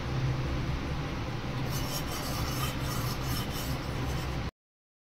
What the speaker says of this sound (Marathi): आता मी घेतो हलवून जरा दुधाला